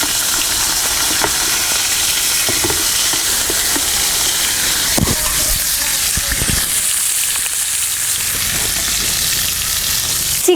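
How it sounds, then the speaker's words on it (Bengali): Chicken pieces frying in hot oil in a pan for spicy chicken roast, a loud, dense, steady sizzle and hiss running throughout with a few faint clicks, no speech. "চিকেনটা আমার ভাজা হয়ে গেছে,"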